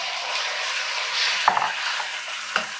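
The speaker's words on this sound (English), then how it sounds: "Fry the garlic until fragrant." Minced garlic frying in a few tablespoons of oil in a wok: a close, continuous bright sizzle, broken by two brief utensil knocks.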